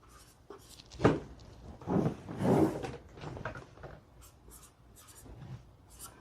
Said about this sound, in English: Show my pen in case I know something like I want to write on this side.